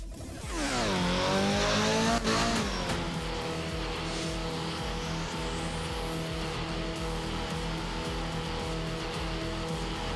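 Rally car in art of rally on a wet German stage, engine revving up hard with rising pitch, then a gear shift and a sustained close drone as it drives on.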